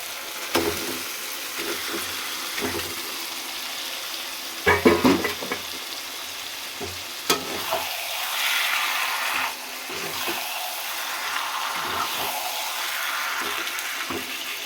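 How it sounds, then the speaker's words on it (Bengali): Marinated meat tipped into a hot pan, a cluster of clattering knocks followed by a steady, loud sizzle that carries on for several seconds without speech. "এবার আমি ম্যারিনেট করার যে মাংসটা মেখে রেখেছি সেটাকে আমি ঢেলে দেবো।"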